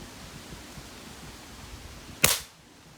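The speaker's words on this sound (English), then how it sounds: "I'm going to take a shot." A single sharp gunshot fired at a paint-marked target about 10 yards away, an abrupt loud crack with a brief decaying tail that stands alone against quiet outdoor background.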